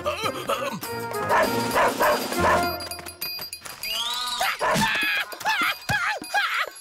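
A cartoon search dog barks in a series of bow-wow barks and yips, loud and close, with some whimpering tones and a faint clink, mostly alone with little talk.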